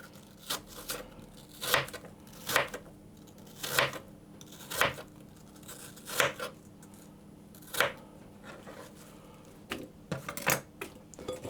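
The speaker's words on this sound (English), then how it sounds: "So there are my apples sliced" A knife slices apples on a board for an apple crisp, giving a dozen or so soft, crisp cuts at a steady, unhurried pace. The strokes are faint and close, with quiet room tone between them.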